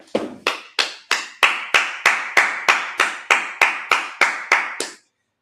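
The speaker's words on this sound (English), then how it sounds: "Let's clap it up." Thirteen sharp, evenly spaced hand claps ring out at a steady beat during a Sabbath service, close and clear, then stop.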